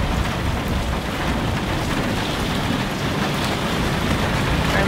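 Steady rain pouring in a remote Patagonian valley beside an exposed gravel road, a loud, dense, continuous hiss of drops with no voices.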